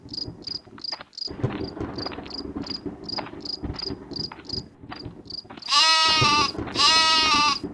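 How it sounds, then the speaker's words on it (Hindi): A goat bleats twice, loud and close, with long wavering cries near the end, after a stretch of steady rhythmic cricket chirping over a low rustling night background in a forest setting. "ये तो बकरी की आवाज़ है।"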